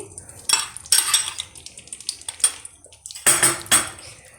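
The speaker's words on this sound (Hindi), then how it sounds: "जिस कप से मैंने घी लिया है इसी कप से मैंने ये बेसन लिया है, तो बेसन डाल देते हैं" Gram flour (besan) is added to desi ghee in a pan, with sharp clinks and scrapes of a cup and utensil against the metal pan in several quick bursts.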